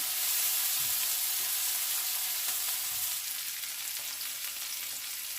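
Onions sizzling and frying steadily in a pan for a potato and mushroom stew, a dense, even crackle at moderate loudness with no talk.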